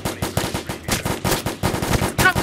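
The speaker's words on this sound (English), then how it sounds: "Shots near the house or at the houses, and we need to go there." Gunfire in the Roblox game Maple County rattles out in rapid bursts of loud, sharp shots, a machine-gun-like string of cracks with short gaps between volleys and no talk over it.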